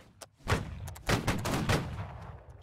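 A musket volley fires in the Napoleonic-era battle game Holdfast: Nations At War: several loud, close cracks go off in quick ragged bursts, then rolling echoes and scattered shots trail away.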